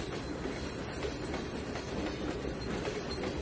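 A train rolls steadily through a yard in the Trainz 2019 railway simulation game, a constant low rumble of wheels and cars with faint clattering, moderately quiet and unbroken throughout.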